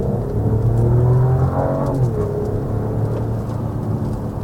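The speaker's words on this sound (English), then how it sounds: "Let's take it up one of Vancouver's steeper hills and check the pep." A Mercedes-Benz E 450 with a turbocharged 3-liter inline-six pulls up a steep Vancouver hill, a loud, steady engine drone from inside the cabin, rising in pitch as it accelerates, with road rumble underneath and no talking.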